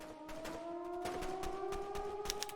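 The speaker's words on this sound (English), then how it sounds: "What the hell is that sound? A siren?" A steady wailing siren sounds inside the zombie survival game Zompiercer, its sustained tones sliding slowly upward and holding loud and continuous with no talk.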